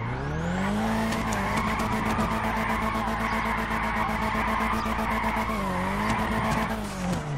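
Tires squeal in a loud, continuous skid as a car drifts with the handbrake pulled in GTA 5, engine droning underneath, the screech wavering in pitch through two bends and never letting up.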